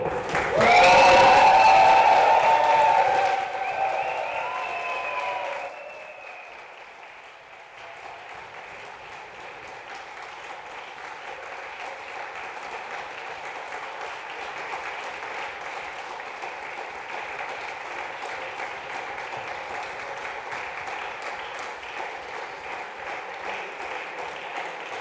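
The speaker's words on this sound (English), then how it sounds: "please can you all give a massive round of applause" Audience applause at a squash tournament finals awards evening: a loud burst of clapping and cheering that quickly fades to a quieter, steady patter of hands continuing at a distance for a long stretch.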